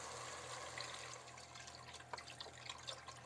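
Beef broth poured into a pan for German rouladen, a faint, steady liquid stream with a few splashing gurgles near the end, no voices.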